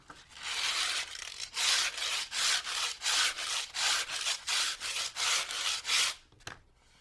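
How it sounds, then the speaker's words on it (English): Rhythmic back-and-forth rasp of sandpaper smoothing the edge of a homemade one-stringed guitar, about a dozen even strokes, close and loud, ending with a short knock. "Could get a little bit of sandpaper,"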